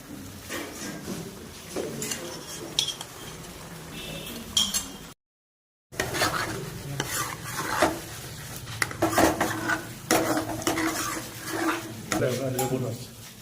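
Fish masala with brown gravy gets stirred in a pan, the spoon scraping and clinking against the metal over a low sizzle, with a brief dropout partway through.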